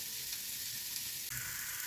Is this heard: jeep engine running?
no